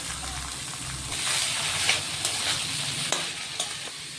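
Boiled banana flower with fried potato and spices sizzles steadily in hot oil in a pan, with a spoon scraping and stirring through it in close, continuous strokes and no talk.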